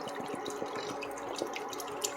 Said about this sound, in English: I'm going to be adding 3 bottles of water.